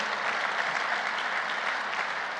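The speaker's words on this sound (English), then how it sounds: "give yourself a round of applause for freaking being here today" An audience applauds in a dense, steady burst of clapping, loud and continuous throughout, with no voices above it.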